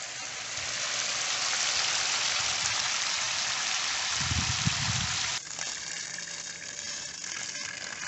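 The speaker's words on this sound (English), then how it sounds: "now I'm going to go turn on the power to the pump and perform the backwash" A Flow Clear pool pump runs a backwash, a steady loud rushing of water with a brief low gurgling surge midway, then a sudden shift to a slightly quieter continuous flow.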